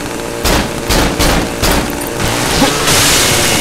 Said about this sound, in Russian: Как 5-5 выстрелов? В упор.